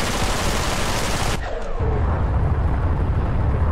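Spaceship weapons fire in rapid dense bursts at enemy ships in the space combat game EverSpace, loud and continuous, with a brief dip and swooshing streak before the barrage resumes.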